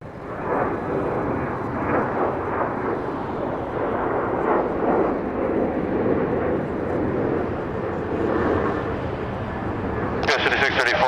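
A Boeing 777 built in 2018 departs from the southern runway at Los Angeles with a sustained, loud, broad jet engine roar heard from the airport side, a voice talking over it throughout.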